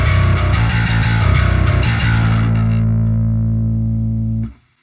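A loud bass guitar with high-end distortion, bass raised and treble cranked, plays a gritty riff, then holds a sustained note that rings out before cutting off abruptly.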